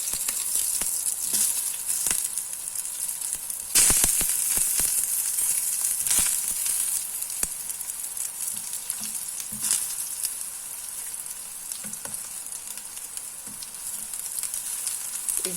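Brinjal slices fry in oil in a pan, Kerala style, giving a steady, close hiss of sizzling with occasional sharper pops and spatters, and no voices over it.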